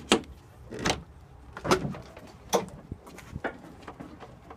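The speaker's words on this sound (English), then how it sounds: "we're going to open the hood" Opening a vehicle's hood: a handful of separate metallic clunks and latch clicks spaced over a few seconds, close and fairly loud, with no talking.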